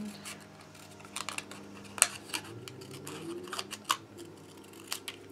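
Scissors snip through a clothespin or similar small craft piece, a few sharp close cuts standing out over a faint steady background hum.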